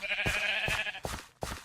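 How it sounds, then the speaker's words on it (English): Sheep in a video game village, bleating several times in close succession, loud and near, with no talk. "All I hear is sheep."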